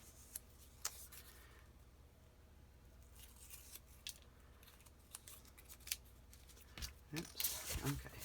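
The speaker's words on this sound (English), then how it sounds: "grab another hinge, cut it in half." Scissors snip through a paper hinge for a file folder album, a few sharp, quiet cuts spread out, then a rustle of paper handling that builds near the end.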